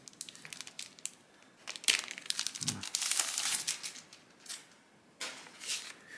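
Crinkling plastic wrap being pulled off a collected RC racing car magazine, with irregular close crackles and tearing rustles that come in bursts, quieter in the final seconds.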